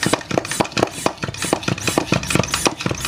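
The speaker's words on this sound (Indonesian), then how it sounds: "Kita pompa sampai udaranya kencang, sampai di sini keras." Hand pump forcing air into a plastic Aqua or Sprite bottle rigged as a mini compressor: quick, even, rhythmic puffs and clacks, about four per second, close and loud, with no talking.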